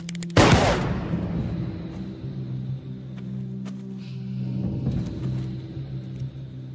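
A single loud gunshot cracks out near the start of a scene in a Portuguese-dubbed Ghost Rider film, followed by a lingering low rumble and quieter scene ambience with no talk.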